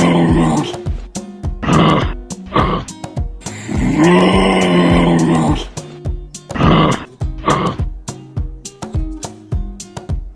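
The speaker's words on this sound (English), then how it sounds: "And the sound of the kangaroo is..." Kangaroo vocalizing in a run of deep, rough grunts and snorts, some short and clipped, others longer and drawn out, loud and close with brief pauses between bursts.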